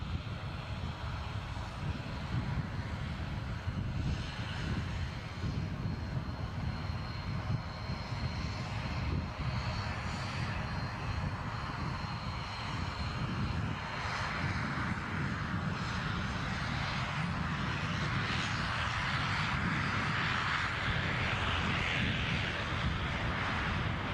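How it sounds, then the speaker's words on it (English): An EasyJet Airbus A320 comes in to land at Edinburgh Airport, its jet engines a loud, steady roar and rumble that holds for the whole stretch, heard outdoors with no one speaking. "A320 departed about 56 minutes ago. Shortly to go wheels down at Edinburgh Airport."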